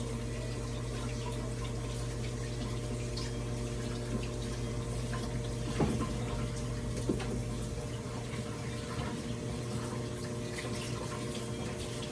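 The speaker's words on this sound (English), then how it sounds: "I gotta wash my hands though" A kitchen tap runs steadily for hand washing, a continuous close rush of water with a low pump-like hum beneath and occasional soft splashes and knocks as hands move under the stream.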